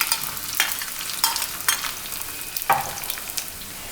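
Chopped ginger and green chilli sauté in a pan, giving an even sizzle broken by several sharp scraping strokes of a spatula at a regular pace. The sound is close, with no voices.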